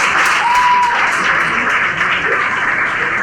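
Brief applause from an audience of students at a school event, a continuous wash of clapping at moderate strength throughout.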